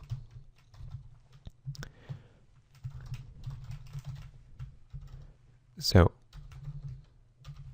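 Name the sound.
typing code on a computer keyboard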